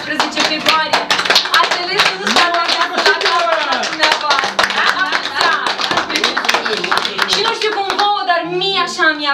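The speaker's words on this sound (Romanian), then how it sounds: "acum aplaudați-vă pe voi" Dense clapping from guests at a 70th birthday jubilee celebration in a village, rapid and continuous, with voices speaking and calling out over it throughout.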